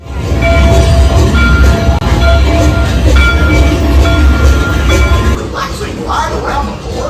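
A train ride at Disney's Hollywood Studios rolls along with a loud, steady rumble and a faint clatter, under a voice and other noise, then eases slightly near the end.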